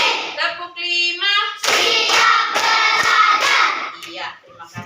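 Group hand-clapping in the 'tepuk 5' rhythm game led by a teacher: voices chant at the start, then a dense burst of many hands clapping together, fairly close, with a few scattered claps trailing off at the end.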